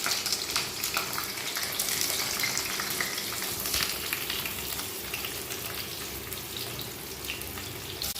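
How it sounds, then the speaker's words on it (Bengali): Eggplant pieces fry in plenty of mustard oil in a wok, a dense, loud crackling sizzle holding steady throughout with faint stirring, no speech. "প্রথমে বেগুনগুলো ভেজে নিচ্ছি"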